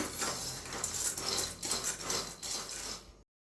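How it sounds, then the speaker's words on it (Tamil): Already-roasted peanuts tossed briefly in a hot kadai, a quiet run of rattling, scraping ladle strokes against the pan that stops abruptly. "இந்த வடச்சட்டி சூடில் மட்டும் லைட்டாக வறுத்து விட்டுக்கிறேங்க"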